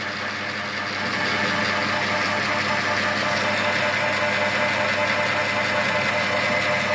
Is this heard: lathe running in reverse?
yes